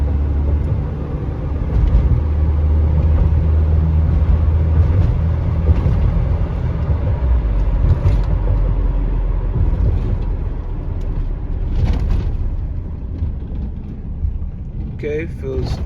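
A Nissan D21 pickup truck cruising at 40 to 50 mph, with a steady low engine and road rumble running throughout and a voice talking over it now and then.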